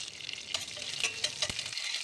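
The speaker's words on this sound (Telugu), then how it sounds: "ఒక ప్యాన్ పెట్టేసి దాంట్లో ఒక 2 గరిటెలు ఆయిల్ వేసేసుకొని దాంట్లోకి అన్నీను పోపు దినుసులు వేసుకోవాలండి" Chana dal, urad dal, mustard seeds, cumin and curry leaves splutter in about two ladles of hot oil in a pan: a brief, close, crackling sizzle with sharp pops and stirring clicks.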